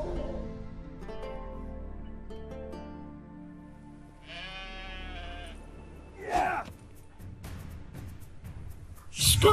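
A sheep bleats with a wavering, nasal cry in The Witcher 3: Wild Hunt, followed by a couple of sharper, louder animal calls amid quiet background tones.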